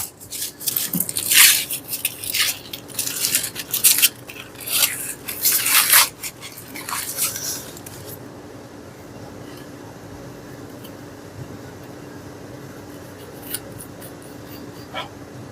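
A knife saws through a pan-cooked tomahawk steak done to about medium-well, giving close, rough scraping strokes in quick bursts for several seconds before the sound falls to a quiet room hush.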